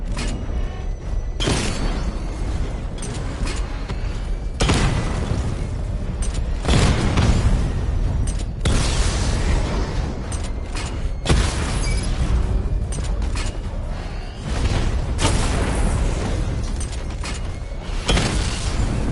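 A Batman Arkham Knight missile barrage sets off a run of loud, booming explosions, roughly seven heavy blasts spaced a second or two apart, with rumbling decay and mechanical creaks between them.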